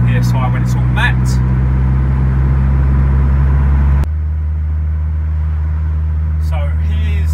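Ford Fiesta RS with a big turbo, running at around 16 psi of boost, pulling in second gear on the street from just under 2,500 rpm: a loud, steady engine drone and rumble heard from inside the car, with a brief voice over it.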